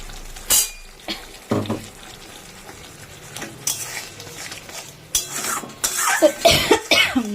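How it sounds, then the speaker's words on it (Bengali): Several sharp coughs, brought on by pungent fumes, break out over the sizzle of frying and the clink of a utensil stirring a pan. "কাশি চলে এসছে"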